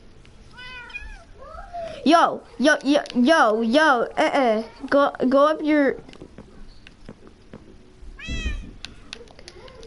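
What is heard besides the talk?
cats meowing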